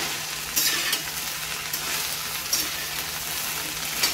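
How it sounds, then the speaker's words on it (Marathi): Okra stir-fry with salt sizzles quietly in a pan while a spoon stirs it, producing a low steady fry broken by a few brief scraping strokes, with no voices. "मीठ टाकल्यानंतर तिला छान असं मिक्स करून घ्यायची पूर्ण भाजीमध्ये."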